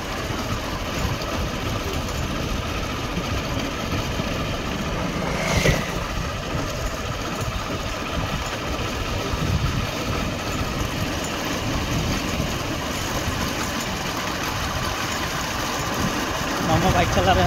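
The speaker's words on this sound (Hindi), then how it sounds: "मामा बाइक चला रहे हैं और मैं पीछे बैठा हूँ" A motorbike engine hums steadily beneath a rider and pillion passenger on a cold January evening ride, a constant moderate drone with wind and road noise throughout.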